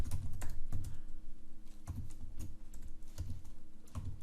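Someone types on a computer keyboard nearby, with rapid, clustered keystroke clicks arriving in uneven bursts and short pauses between them.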